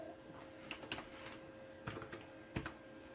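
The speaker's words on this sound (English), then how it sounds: "You can type." Keys tapped on a computer keyboard in a quiet room, a few soft, scattered clicks in short bursts over a faint steady hum.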